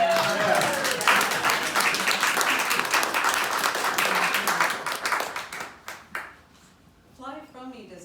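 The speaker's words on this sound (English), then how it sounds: "Applause for the last one." A dense audience applause follows a poem recitation, holding steady for several seconds before thinning out and fading, with a voice starting faintly at the end.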